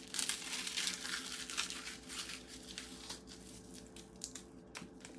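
Dry, freeze-dried material from a worm bin crumples and crackles up close, a quiet run of crisp crinkling bursts with no talking.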